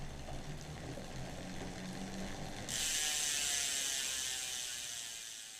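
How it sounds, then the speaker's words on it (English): A speed link on a bicycle chain snaps into place as the crank is pushed down, with the bike standing on the ground after a Hope freehub body and cassette swap; a brief mechanical click followed by a steady hiss. "push down on the crank to click into place the"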